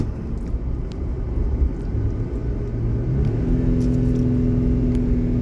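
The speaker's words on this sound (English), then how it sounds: "when the engine races like that, it's no problem" A jeep's engine races on the drive back down from the Pikes Peak summit, a loud steady rumble that rises in pitch and holds at a higher drone near the end.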